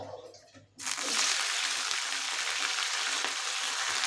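Potatoes and spring onion leaves hit hot oil in a pan and burst into loud, steady sizzling frying that continues without pause, with faint noise before it starts.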